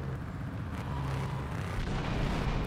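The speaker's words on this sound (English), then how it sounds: "Why am I hearing explosions?" Explosions in the video game Grand Theft Auto III, a dense, rumbling wash of booms and blasts rolling on continuously at steady loudness, heavy in the low end with no talk.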